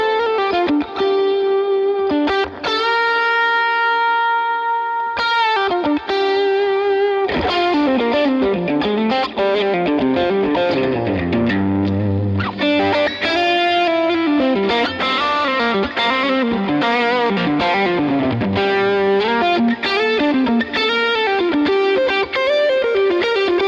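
Heavily distorted electric guitar plays chords and riffs through a Fractal Axe-Fx modeling a Matchless DC30 amp, crunchy and saturated, with sustained notes and no voices.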